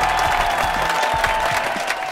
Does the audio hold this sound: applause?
yes